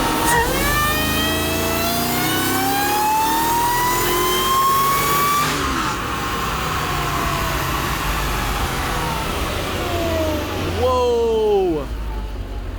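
Mercedes E55 AMG wagon engine revving hard on a dyno with the hood open, pitch climbing steadily through a long pull, then dropping off, followed by a brief second rev near the end; loud and close throughout.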